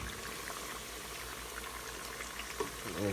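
Avocado pieces, cut into fry-sized chunks, deep frying in hot oil, a steady, faint bubbling and sizzling hiss with a small pop near the end and no talk.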